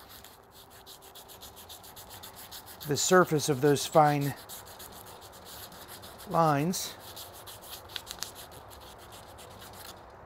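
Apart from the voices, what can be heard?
sanding an elder maple burl knife handle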